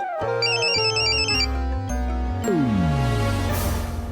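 A loud electronic phone ringtone plays a repeating melodic pattern, then shifts into a falling tone, close and alone without speech.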